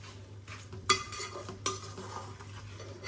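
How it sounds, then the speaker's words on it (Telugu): Hot oil with tempering hisses softly as it is poured over a tamarind and red chili chutney. Two sharp clinks of a utensil against the pot stand out above a low steady hum. "వేడివేడిదే పోయాలండి మన చింతకాయని పనిమిర్చి పచ్చి కదా పచ్చి అంతా ఎగిపోతుంది వేడి నూనెలో"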